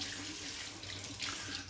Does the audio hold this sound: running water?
yes